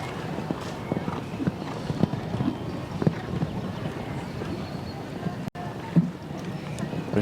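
Show jumping horse's hooves clip-clopping at an outdoor event-rider masters course, a regular, moderately near beat of hoof thuds mixed with wind noise and commentary talk.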